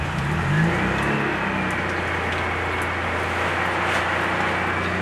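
A cold Fiat Panda 4x4 Sisley engine takes a short blip of throttle that quickly settles into a steady, slightly rough running drone, close and continuous with no talking.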